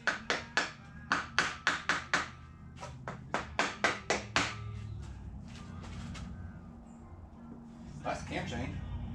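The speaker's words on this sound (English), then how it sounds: "You want to use a rubber mallet because you don't want to damage your actual engine parts." Rubber mallet knocking on the engine parts of a 2000 Honda XR100R to free them, a quick series of about twenty sharp, close taps in uneven bursts, then quieter handling noise and a short burst of speech.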